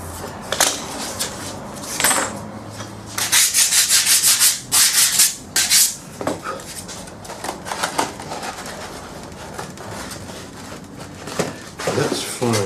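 Someone trims a piece to fit in a model build, making repeated rubbing, scraping strokes in irregular bursts, close and fairly loud, with a voice talking at times between them.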